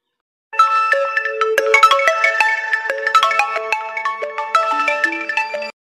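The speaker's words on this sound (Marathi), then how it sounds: "शांताराम भाऊ, पांडे साहेबाचा फोन हो." A mobile phone ringtone plays loud and clear on its own, a bright repeating electronic melody of tonal notes that runs steadily for about five seconds and then stops.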